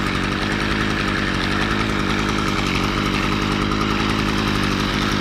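Engine of a 2011 Stihl FS55R string trimmer warming up: a steady, loud, buzzing two-stroke idle that drones close and unbroken throughout.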